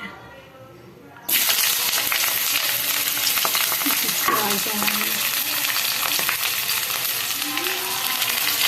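Chopped onions and tomatoes hit hot oil in a pan with a sudden loud sizzle, then fry steadily with bursts of stirring and occasional clinks, close and continuous.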